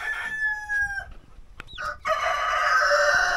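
Hens, including Rhode Island Red and Plymouth Rock birds, cluck and squawk close by in a farm setting, with a short call, a pause, then a louder burst of chatter.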